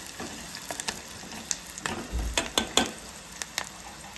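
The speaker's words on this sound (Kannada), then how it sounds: "ಉಳ್ಳಾಗಡ್ಡಿ ಚಲೋ ಫ್ರೈ ಆಗಬೇಕು" Onions frying in a pan, a steady soft sizzle broken by several sharp clicks and scrapes of a spoon against the pan, close and fairly loud, with no talking.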